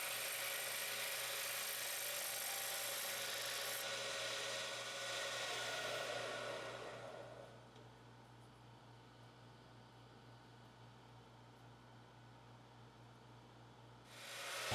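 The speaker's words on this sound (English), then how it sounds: "With the gouge we get more shavings and less shards fly out." A gouge cutting a wood spindle on a lathe, a loud, continuous hissing, shearing roar for about seven seconds that then drops to a quieter steady hum of the spinning lathe, with a brief renewed burst of cutting at the very end.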